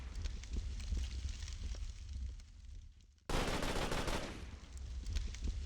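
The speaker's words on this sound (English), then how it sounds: "If I use the chain gun." Chain gun firing in the video game Fire and Ice, a rapid burst of gunfire sounding loud and dense, with quieter game noise before it.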